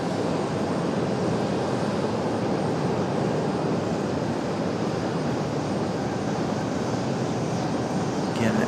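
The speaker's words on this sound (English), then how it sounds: "the American 777 still on the move. Slowly making their way out to the end of the runway" An American Airlines Boeing 777 taxiing slowly toward the runway at Raleigh-Durham International, its jet engines giving a steady, broad rumbling roar that holds level throughout, fairly close and loud.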